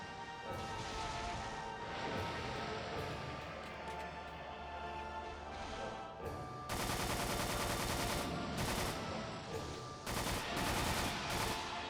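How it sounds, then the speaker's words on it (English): A heavy machine gun fires in a video game, dense continuous bursts of loud gunfire starting partway through over game music and effects, with short breaks between volleys. "Heavy machine gun."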